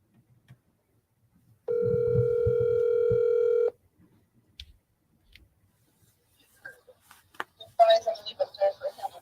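A telephone dial tone sounds as a call is placed, a steady electronic hum for about two seconds that cuts off abruptly, followed by faint clicks and then a person talking.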